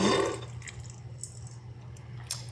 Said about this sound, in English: we'll just pour that in with the meringue powder